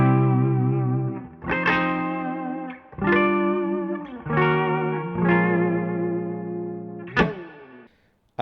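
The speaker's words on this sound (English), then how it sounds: "It does this wobbly, shimmery, lovely thing that sounds so cool." Fender Jazzmaster electric guitar with a wobbly, wavering vibrato like a failing cassette tape, playing sustained chords with several strums that ring out and fade, shimmering with effects and some distortion, close and alone.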